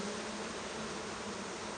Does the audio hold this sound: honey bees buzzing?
yes